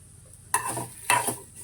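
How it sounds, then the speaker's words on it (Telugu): A spoon stirs ingredients frying in a pan, with two distinct scraping strokes over a soft sizzle. "వాటిని కూడా చెంచాతోటి మంచిగా కలుపుకొని వేయించుకోవాలి"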